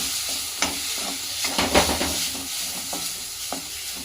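Palak gravy sautéed in a pan for a palak paneer, heard as steady close sizzling with repeated scraping stir strokes and soft clinks running throughout.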